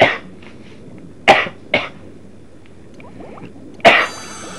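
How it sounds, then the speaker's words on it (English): Several sharp, separate coughs spaced apart, with a final harsher cough near the end, close by against a quiet background. "Sorry, I'm getting over a cough."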